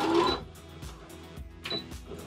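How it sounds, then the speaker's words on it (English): Sewing machine stitching straight across the folded, pinned hem of a Turkish towel curtain, a close, quiet mechanical whir with a few sharp taps and clunks, no talking. "that's where I'm gonna sew all the way across"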